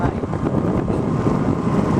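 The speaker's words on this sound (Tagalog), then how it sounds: "Nakasakay kami sa yate." Steady broadband rumble of a motor yacht cruising over the open sea, with wind buffeting the microphone throughout.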